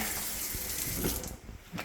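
Water streams steadily from a newly installed stainless steel wide kitchen faucet into a sink in Busan, a close, full hiss of running water that eases slightly near the end.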